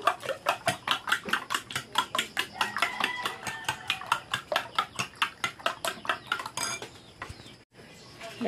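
A utensil whisks eggs briskly in a bowl for a string bean omelette, clinking against the side in a fast, steady rhythm of about thirty strikes before slowing and stopping.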